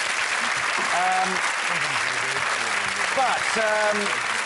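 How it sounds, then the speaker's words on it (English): Steady applause from a studio audience at a comedy improv show fills the clip, with voices cheering and talking over the clapping throughout. "a big round of applause there for everybody doing that"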